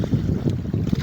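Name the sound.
strong north wind blowing at sea on a fishing boat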